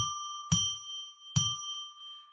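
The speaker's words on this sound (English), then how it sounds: "So let's ring that bell." A small ritual bell struck twice during a live psychic radio broadcast, each strike a bright ringing ding with sustained overtones that decay slowly between hits.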